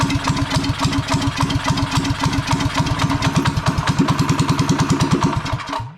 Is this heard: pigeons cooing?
no